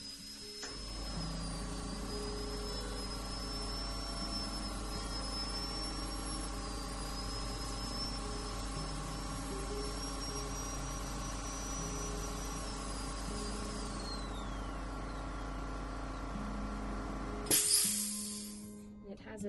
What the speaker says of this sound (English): So this is called the high-speed drill.